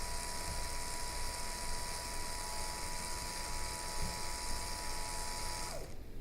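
A DC motor turns slowly at reduced speed during a lecture experiment, giving a steady, continuous whir with a faint whine that holds evenly before cutting off near the end.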